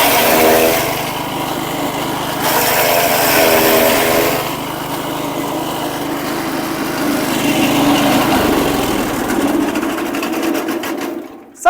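A chaff cutter shredder machine runs with a loud, steady high-pitched motor whine and rattling drone that holds throughout, changing pitch slightly partway through before cutting off abruptly at the end.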